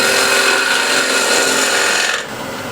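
A small 10 mm spindle gouge cuts waste wood on a lathe, giving a steady, close, rasping scrape that eases off near the end.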